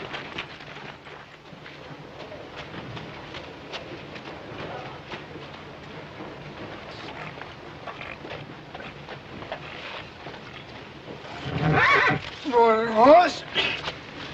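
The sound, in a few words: horses neighing and clip-clopping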